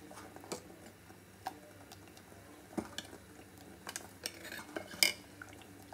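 A spoon stirs thickening milk in a pot on high heat, giving scattered light metallic clinks and taps against the pan over a low background hum.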